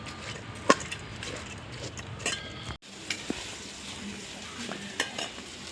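Basmati rice in water being gently stirred in a pot, producing soft, steady swishing with a few faint clinks of a spoon against the pot wall, quiet and close.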